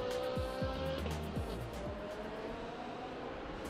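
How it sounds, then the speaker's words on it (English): Ferrari race car at Sepang International Circuit during a Thailand Super Series race, engine whining loudly as it passes with rising and falling pitch, a second engine note beneath, no talk. "The high whine noise of the engine is very, very iconic for the Ferrari."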